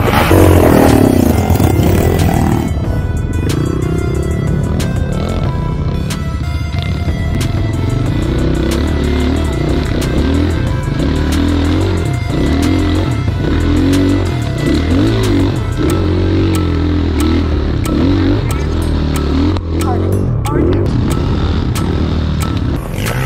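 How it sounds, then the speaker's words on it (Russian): A GRX pit bike engine revs hard climbing a mountain hill near Kislovodsk, loud and close, with sustained buzzing throttle swells and rises in pitch throughout, alone without voices. "только что заехал на питбайке GRX"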